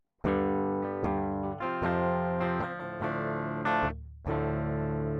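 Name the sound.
electric guitar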